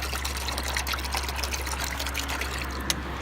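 Water poured from a bottle for a stray dog outdoors, a close, steady trickling splash that runs for about three seconds with no talk.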